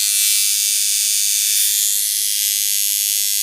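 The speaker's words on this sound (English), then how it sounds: "this was the machine I tattooed a lot with it" A rebuilt coil tattoo machine runs with a steady, loud, high-pitched electric buzz that holds constant for the whole stretch, close and with no other sounds.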